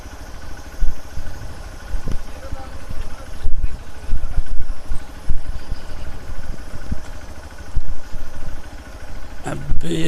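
A motorcycle engine runs on a hill road between Darjeeling, Badamtam and Majitar, its low rumble rising and falling in uneven surges close by, with a brief rattle near the end.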